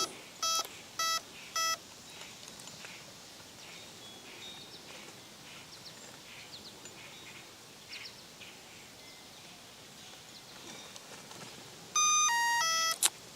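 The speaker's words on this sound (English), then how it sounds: "We hear the beep rise up." Three short electronic beeps from a Traxxas Spartan RC boat's speed controller sound early over quiet hiss, then near the end a quick sequence of beeps steps upward in pitch.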